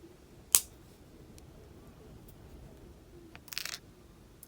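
Wire snipped with cutters while making a wire wrap pendant: a single sharp close click near the start, then a brief cluster of faint clicks a few seconds later, with quiet in between.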